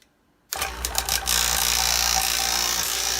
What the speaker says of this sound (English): Got it connected into the vacuum pump. Vacuum pump is plugged in.